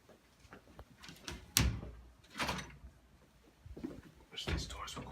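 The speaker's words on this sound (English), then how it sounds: "Wish these doors were quiet." A door opens and closes in a few quick bursts of creaks, thumps and sliding rattles, close and moderately loud, with quiet murmured voices in the gaps.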